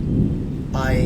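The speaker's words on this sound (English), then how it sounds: "I think you can hear the thunder right now" Thunder rumbles as a deep, continuous low roll, close and loud, under a voice that begins speaking near the end.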